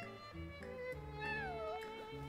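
Genshin Impact cat meowing once, a rising-then-falling whine in the middle of the clip, set against continuous in-game background music.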